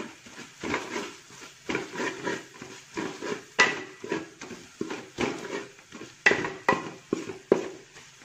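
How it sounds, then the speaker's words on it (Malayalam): A spoon scrapes and knocks rhythmically through Kottayam-style beef roast with black pepper in a pan, a steady series of stirring clatters with a faint sizzle underneath, fairly close. "ഓക്കെ, നല്ലോണം ഒന്ന് ഇളക്കി കൊടുക്കാം."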